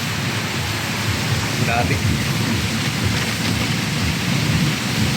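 A downpour roars steadily with a deep rumble beneath it, while a person speaks briefly over the rain.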